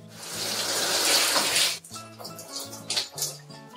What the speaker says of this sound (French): C'est parti pour le rinçage. Donc je vais rincer un petit peu, pas beaucoup.